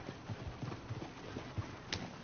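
Horse hooves clip-clop in a rapid, irregular rhythm within a video game, moderately faint and somewhat distant, with a brief sharper sound near the end.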